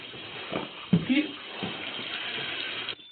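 Water runs steadily from a tap during a police encounter, a continuous hiss under raised voices and brief shouts.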